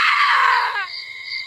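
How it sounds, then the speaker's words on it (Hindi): A witch's shriek in a horror tale, a loud, harsh scream that holds for about a second and then breaks into a shorter wavering wail, with no other sounds around it. "चुड़ैल चीख उठी।"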